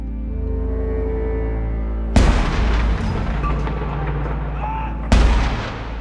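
Cannons fire at the Tower of London in two heavy booming blasts about three seconds apart. Each one is loud and near and rolls into a reverberating echo over a low rumble.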